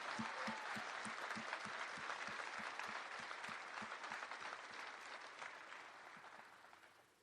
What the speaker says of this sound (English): Please join me in giving the awesome class of 2021 a round of applause